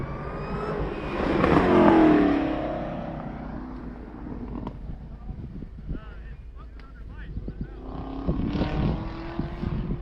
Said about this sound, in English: And the Panamera Hybrid takes the green.